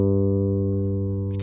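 Electric guitar played through an amp with the high-mid control turned fully up, ringing one sustained, bright, steady note that fades only slightly.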